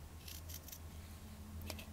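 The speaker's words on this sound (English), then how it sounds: "And I'm going to cut in real time so you can see" Scissors snip through cloth while cutting out detailed doll hands, several short crisp cuts in a quiet room with no talking.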